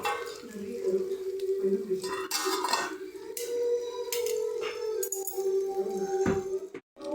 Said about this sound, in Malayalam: നമ്മൾ ഫില്ല് ചെയ്ത് വെച്ച മീൻ നമ്മളൊരു പാനിലേക്ക് വെച്ചിട്ട് എണ്ണ ഒഴിച്ച് ജസ്റ്റ് ഒന്ന് മൂടി വെക്കുകയാണ്